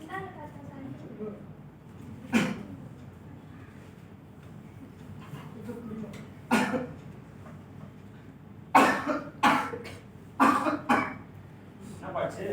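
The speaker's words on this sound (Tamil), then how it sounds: "ஒன்றும் இல்லைப்பா, சும்மா இருமல் தான்ப்பா." A man in a staged student skit coughs in several rough bursts, a few single coughs early on and a clustered fit later, over a quiet room background.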